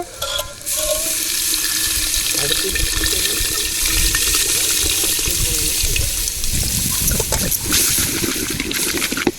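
Steady, full splashing of tamarind water being poured into a pan, loud and close, continuing without pause for several seconds.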